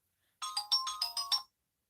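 A mobile phone ringtone plays a bright, melodic run of about seven quick tone bursts lasting roughly a second, clear and close in an otherwise quiet room.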